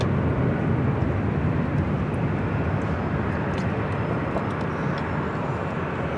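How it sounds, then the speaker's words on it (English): An Alaska Airlines Boeing 737-900ER jet airliner rumbles past at an airport as a broad, loud engine roar that holds steady and then slowly eases, with no voices over it. "Alaska Airlines Flight 1147 heading to Seattle in a"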